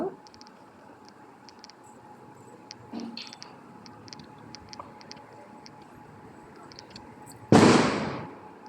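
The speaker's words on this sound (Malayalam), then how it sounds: "ഇടയ്ക്കിടയ്ക്ക് ഓരോ പടക്കം പൊട്ടുമ്പോൾ ഞെട്ടുന്നുണ്ട്." A single loud firecracker blast near the end after quiet outdoor ambience at a temple with faint distant pops.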